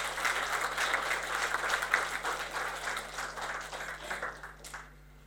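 A conference hall audience gives a round of applause for a presenter, thick clapping that stays loud for several seconds, then thins and fades out near the end over a faint steady hum, with no talk.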